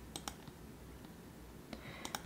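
A computer mouse clicks faintly, a couple of quick paired clicks at the start and a few more near the end, against a quiet room background.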